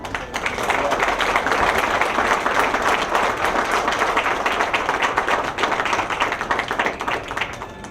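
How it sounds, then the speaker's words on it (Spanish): Audience applause for the winners of a university essay contest at an award ceremony, a loud, dense wash of clapping that holds steady for several seconds with no voice over it. "Brindemos un fuerte aplauso a los ganadores del 10º concurso de ensayo universitarios Construyendo Transparencia"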